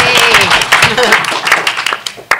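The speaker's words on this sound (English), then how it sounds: "Can we all give another round of applause for Bill?" A panel audience at GeekFest's Women of SciFi event claps. The applause is scattered and moderate under loud, close talk and cheering from the stage.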